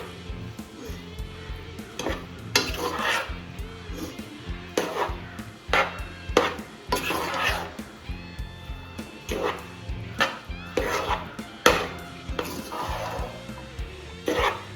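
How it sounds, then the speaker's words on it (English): Rice being stirred together with a generous amount of sauce in a pot, with repeated clinks and scrapes of a utensil against the cookware in an irregular rhythm, close and moderately loud, no talking. "Now I'm mixing it."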